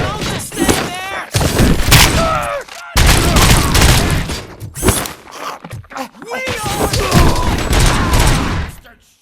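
Rapid bursts of gunfire in the video game RoboCop: Rogue City, loud and dense across most of the clip, broken by brief pauses, with shouting voices mixed in.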